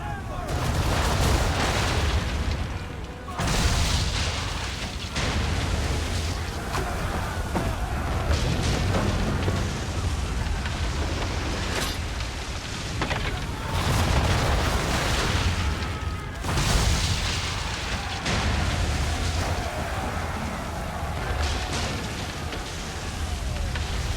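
Ship cannons in Assassin's Creed III boom repeatedly during a storm at sea, loud heavy blasts spaced several seconds apart amid roaring wind and crashing waves, with voices talking throughout.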